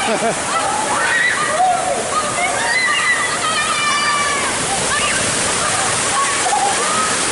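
Riders splash down the Tornado funnel water slide at Six Flags Hurricane Harbor in St. Louis, steady loud rushing water with sloshing surges under crowd noise and voices.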